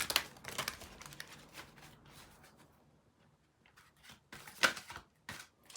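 A deck of oracle cards is shuffled in quiet bursts of crisp, papery riffling and flicking, loudest at the start and again near the end with a near-silent pause between.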